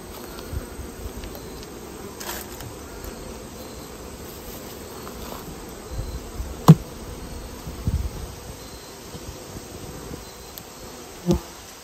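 A steady, close-up drone of many calm honeybees buzzing together in a hive, with occasional sharp clicks and knocks over the continuous hum.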